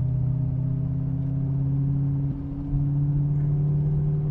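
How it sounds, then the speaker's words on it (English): A 1987 TVR 390SE sports car drives along a farm track, its engine a steady, close, low droning rumble that dips briefly near the middle before settling back to the same even note. "driving a TVR down a farm track"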